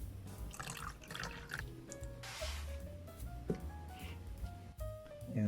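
Water pours and splashes into a container while mixing bug gel for feeder insects, rising in pitch as it fills, with a few clunks and handling noises along the way.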